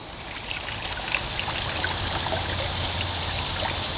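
An AMZtime 15W solar water pump fountain splashes and trickles continuously up close, a steady bright watery rush with no voices.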